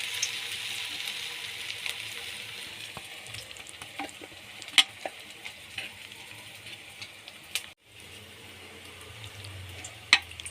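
Bread rolls stuffed with onion bhaji mixture fry in hot oil, a soft steady sizzle with scattered crackles and sharper pops, briefly interrupted near the end, close and fairly quiet with no talk.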